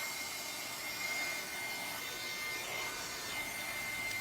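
A heat gun blows steadily over wet Finnabair Art Extravagance icing paste on an art journal page, a continuous broad airy roar with no pauses, close and fairly loud throughout.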